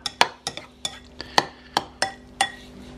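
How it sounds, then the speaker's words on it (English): A spoon stirring a fishcake mix of smoked haddock and salmon in a bowl: about nine sharp, close clinks of metal on the bowl in an uneven rhythm, with soft scraping between them. "Now I'm going to give this a quick stir"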